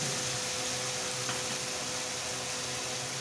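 Tomato paste is stirred into a masala garlic bhuna curry in a pan, giving a steady, close sizzle with soft scraping under it and no talk.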